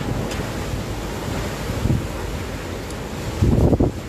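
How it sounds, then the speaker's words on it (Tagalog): Strong wind of Super Typhoon Rolly (Goni) roars through Naga City in a constant heavy rush, with louder gusts buffeting the microphone near the end and no voices. "mararamdaman na naman natin yung yung malakas na hangin ni Bagyong Rolly"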